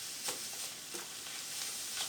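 Eggs, tomatoes and vegetables frying on high heat in a pan for bean burrito filling, a soft continuous sizzle broken by occasional scrapes of a stirring spatula.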